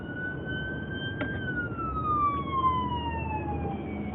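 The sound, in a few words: ambulance siren passing in traffic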